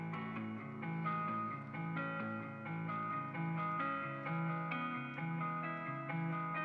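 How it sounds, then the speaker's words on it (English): Electric guitar rendered through FL Studio's Hardcore distortion effect for a dark alternative trap beat, playing a steady, sustained, heavily saturated melodic line at an even level with no voices. "I rendered the guitar out with a different hardcore effect"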